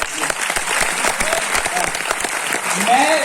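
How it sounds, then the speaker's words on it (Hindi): A seminar crowd at a company business presentation claps steadily throughout, with some voices mixed faintly into the dense applause. "तालियां बजाओ तो अच्छे से बजाओ"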